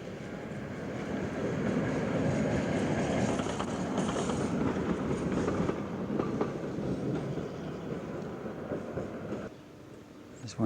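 A Moscow tram rolls past in 1992 with a sustained rumbling roar and rhythmic wheel clatter, fading as it moves away near the end.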